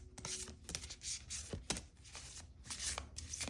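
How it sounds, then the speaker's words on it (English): Large, new tarot cards are shuffled up close in a quiet room, giving repeated soft riffling and flapping bursts with a few sharper slaps. "it's a little bit challenging to shuffle them"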